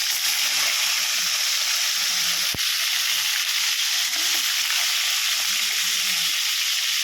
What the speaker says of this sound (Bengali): কাঁকড়াটা ভেজে নিই